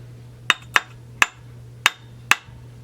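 Five sharp metallic taps ring out on the washer of a Husqvarna 372XP chainsaw flywheel, irregularly spaced and close, with a low steady hum underneath.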